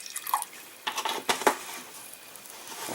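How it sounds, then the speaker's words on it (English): Regular white vinegar poured into a jar of homemade garden relish, giving short liquid splashes and trickling drips with a few light glassy clinks, close and fairly quiet, with no voices. "I'm going to top this up with a regular white vinegar."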